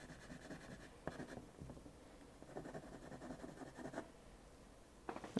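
A colored pencil is pressed hard over paper to burnish whites, making close, faint scratchy strokes in uneven bursts with brief pauses between passes.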